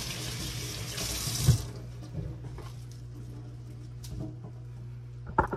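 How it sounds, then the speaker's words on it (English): Plastic aquarium decorations are rinsed under a running kitchen tap with no soap, a steady close stream of water splashing, with a few wet squishy handling sounds. "rinse this out a little bit. No soap, just a little nice little rinse"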